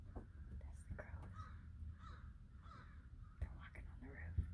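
Crows caw several times at a distance above a quiet room, with faint footsteps and bumps that could be the birds walking on the roof and a soft voice murmuring in between.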